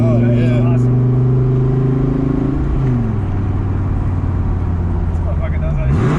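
A Dodge Viper accelerates hard and loud from close range, its engine note climbing, dropping at a gear shift, then pulling steadily again, while people talk over it.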